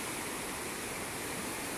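A river in Michoacán, swollen and saturated with Tropical Storm Narda rain, rushes in a continuous broadband roar, steady and faint, with no other sounds.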